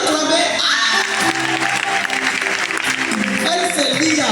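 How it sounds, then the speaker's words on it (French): Audience applause at an invitation event, steady dense clapping under an amplified music bed, with a voice speaking over it throughout. "Faut l'acclamer."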